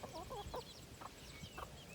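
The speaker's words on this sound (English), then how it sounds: "this is my run with my chickens, my coop" Several chickens of mixed breeds cluck softly in a run beside their coop on a hot July afternoon, in short scattered calls, faint and somewhat distant over a low outdoor background.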